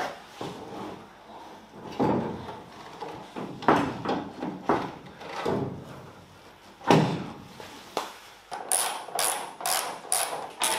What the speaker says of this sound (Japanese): ならば仮でちょっとドア乗っけてみます